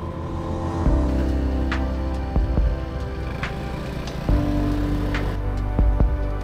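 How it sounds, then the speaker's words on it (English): Motorbike engines on a Koh Chang island road, a low steady engine drone with a few revving surges and passing vehicles nearby, no talking. "People trying to drive motorbikes"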